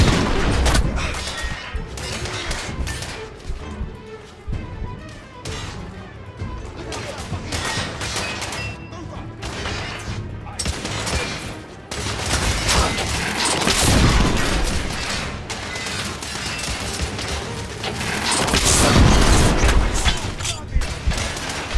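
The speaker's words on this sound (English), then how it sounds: "We are witnessing heavy artillery fire at the moment." Heavy artillery fire in The Order: 1886 during a siege near Westminster Bridge: a loud, sustained barrage of overlapping booms, blasts and rapid gunfire with deep rumble, building to its strongest bursts near the end.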